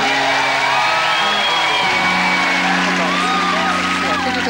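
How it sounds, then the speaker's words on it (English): A gameshow studio audience applauds for the housekeeper, Mrs. Fradgley: loud, sustained crowd cheering with whoops and shouts that fill the whole stretch without a break. "Have some applause for Mrs. Fradgley"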